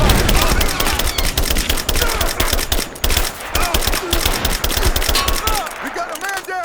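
A firefight in Rise of the Tomb Raider brings loud, relentless rapid-fire gunfire with dense overlapping bursts that barely pause, thinning slightly at the end as faint voice fragments emerge.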